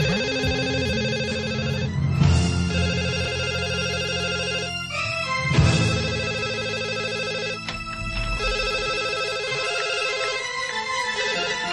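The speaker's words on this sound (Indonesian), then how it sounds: "Mas Bayu, ada telepon?" A telephone rings repeatedly in a home drama scene, its bright electronic ringtone sounding in evenly spaced bursts across the whole stretch, loud and close with no voices over it.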